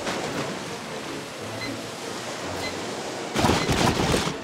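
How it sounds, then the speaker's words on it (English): Ocean waves in LEGO Star Wars: The Skywalker Saga, a continuous rushing surf wash that swells into a louder crashing burst toward the end. "These waves are insane."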